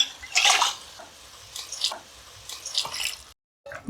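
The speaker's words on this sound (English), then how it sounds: "I put some water in there." Water splashes and trickles into a glass jar of tomato sauce in a home kitchen, a few short pours close up with brief pauses between them.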